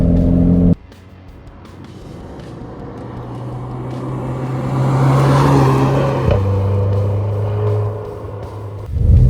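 A Renault Clio RS hatchback engine idles briefly, then revs up and accelerates with a rising, growling tone before settling back, close and loud with no talking.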